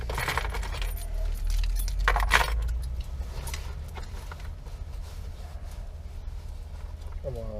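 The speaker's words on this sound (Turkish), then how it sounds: "Şu anahtarı alayım." A set of car keys jangles as it is picked up, bright metallic clinks in short bursts early on, amid steady low background rumble.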